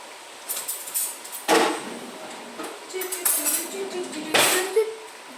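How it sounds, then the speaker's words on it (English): A butter knife is picked up from among other cutlery in a kitchen where scones are being made, giving a few light metallic clinks and rattles over a steady background hiss. "Get a butter knife, it's very weird, but I'll grab one."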